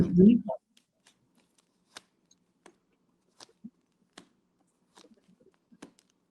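A brief voice at the start, then a series of separate soft tarot card snaps and slides spaced apart, as the cards are shuffled and laid down one by one.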